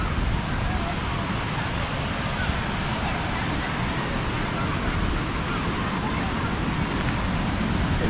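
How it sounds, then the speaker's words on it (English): Rushing water roars at High Falls Park in Alabama, a dense, steady broadband wash of a waterfall that stays loud and unbroken throughout. "Let's go down below the waterfall now."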